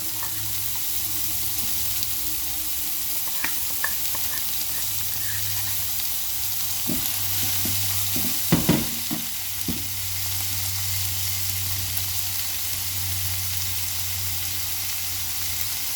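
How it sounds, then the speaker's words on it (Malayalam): Onion, crushed ginger and garlic sautéing in hot oil in a pan for chicken liver fry, giving a continuous loud sizzle with a few brief spoon clinks and stirring scrapes midway, close up, no talking. "ഉള്ളിയും ഇഞ്ചിയെല്ലാം വഴന്നേ"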